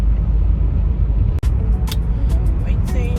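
A car rolls along on the way to a market, its steady low road rumble and engine drone filling the cabin close and loud, with a brief click and a few faint higher noises over the continuous roar.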